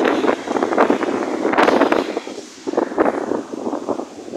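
Strong wind by the sea buffets the microphone in loud, gusty rushes, with surges around the middle and later in the stretch and brief lulls between.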